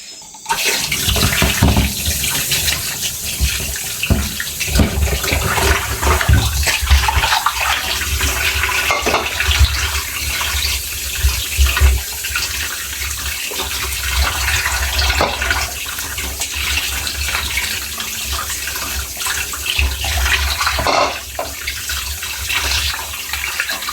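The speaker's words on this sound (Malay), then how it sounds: "Kena cuci dulu guys, cuci bersih, ada bulu-bulu." Sour Dayak eggplants rinsed under a steadily running tap in a farm hut kitchen, a loud continuous rush and splatter of water that keeps going with small shifts in intensity, no talking heard.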